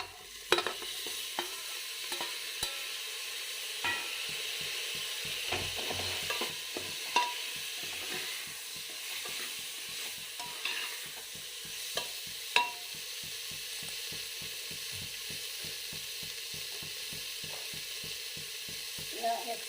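Tomatoes frying in a pan with a continuous soft sizzle, repeatedly stirred so the utensil scrapes in a quick regular rhythm, close and moderately quiet with no speech.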